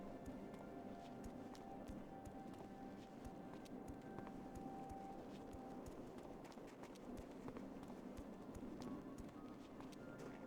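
Footsteps of a character walking along a cobblestone and rock path in World of Warcraft Classic, a steady run of soft, rapid clip-clop steps over a constant dense game ambience throughout.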